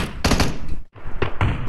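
Bursts of gunfire in the mobile battle game PUBG Mobile, a few rapid clusters of loud shots with a brief gap between them.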